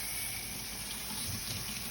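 Hot water spraying steadily over a badly clogged, dirty air-conditioning coil, a continuous close rushing hiss of running water with no breaks.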